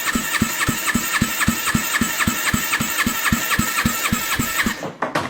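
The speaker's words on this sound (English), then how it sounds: "As long as the compression is normal, it'll start up no problem," A Kawasaki Ninja 500 motorcycle engine, just repaired, starts and runs close and loud, with a fast, even series of combustion pulses that break off near the end.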